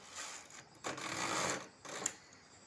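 A knitting machine carriage slides across one row of a sweater border, giving a brief rattling mechanical whir with a louder middle stretch and a shorter burst near the end.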